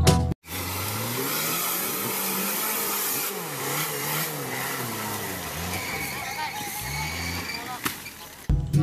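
An off-road car drives in a truck video game, its engine droning and revving steadily throughout, with a voice talking over much of it.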